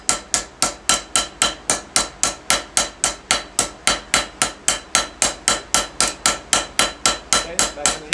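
A power hammer pounds hot steel being planished in a blacksmith's shop, loud, evenly spaced blows in a fast steady rhythm of roughly three strikes per second, with no talking.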